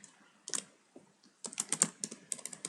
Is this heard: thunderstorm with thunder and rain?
no